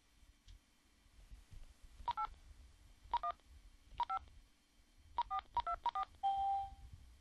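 Telephone keypad DTMF tones enter digits to activate Windows XP Home Edition by phone, short beeps in small separate groups over quiet line hiss, ending with a longer tone.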